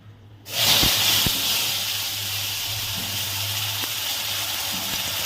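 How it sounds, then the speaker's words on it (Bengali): Ridge gourd paste with turmeric drops into hot mustard oil tempered with black cumin, bursting into a loud, steady sizzling hiss that settles into continuous frying, with no talking. "এবার এই তেলের মধ্যে হলুদ দিয়ে ছেড়ে দেবো এই ঝিঙের"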